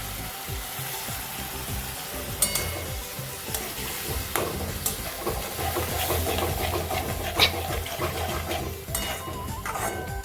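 Ground tomato purée being sautéed for soybean curry bubbles and sizzles in oil, with spoon scrapes and pan clatter scattered through a busy, close cooking noise and no one speaking.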